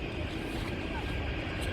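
A Lufthansa Airbus A340-600 takes off from Montreal, its jet engines a steady broadband roar heard from a distance, with voices murmuring nearby.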